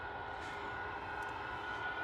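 An Aer Lingus airliner taxis at Manchester Airport, giving off a faint, steady engine whine and rumble from a distance, with no other sound standing out.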